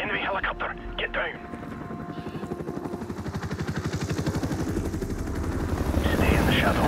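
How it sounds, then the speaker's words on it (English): An enemy helicopter in Call of Duty 4: Modern Warfare Remastered on PC, during the sniper mission All Ghillied Up, builds a rhythmic rotor chop that grows louder and closer as voices fade out early on. "Enemy helicopter! Get down!"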